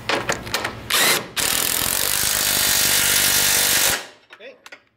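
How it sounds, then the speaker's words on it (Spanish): A Ford Focus control arm bolt is tightened with a power wrench. A few short revving bursts lead into a loud, steady whirring run of about two and a half seconds, which then cuts off abruptly. "Ponemos la llave dentro y apretamos"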